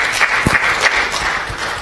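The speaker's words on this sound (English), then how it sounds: "a round of applause to the panelists" Audience applause for conference panelists at a session on domain name system security: a dense, steady wash of clapping for just under two seconds, with no talk over it.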